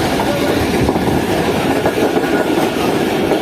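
A passenger train runs on rails toward the Malir River bridge near Karachi, a loud, continuous rumble with rhythmic clatter heard from on board, with no talk.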